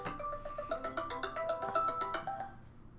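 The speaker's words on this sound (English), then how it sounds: "there's a phone call coming through" A phone rings with an incoming call, a repeating electronic melody of bright, evenly spaced tones heard fairly quietly in a room for a few seconds before cutting off.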